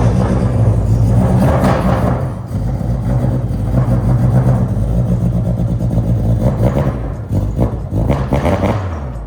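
A car engine revs loudly and continuously, a dense mid-range roar with a few swells in pitch that stays close and constant throughout, the vehicle being a newly bought childhood dream car in Japan.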